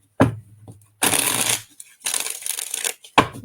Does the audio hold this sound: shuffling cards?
yes